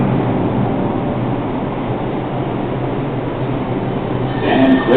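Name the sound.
NYC subway R142A 6 train at Brooklyn Bridge City Hall loop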